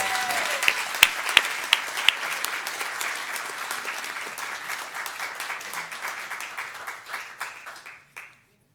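A school board meeting audience applauds a softball player headed to Notre Dame. Steady, fairly close clapping, with a few sharp louder claps near the start, tapers off and stops just before the end.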